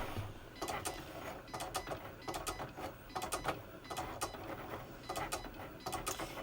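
A Cricut Explore Air cutting machine cuts out a birthday card design, giving repeated mechanical whirring bursts at a steady rhythm, close by and moderately loud with no talking.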